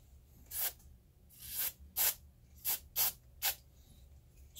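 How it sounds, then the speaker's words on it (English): Short bursts of DeoxIT contact cleaner spray hiss one after another onto preamplifier terminals, six quick squirts with quiet pauses between, close and fairly loud against a low hum. "Spray it on there,"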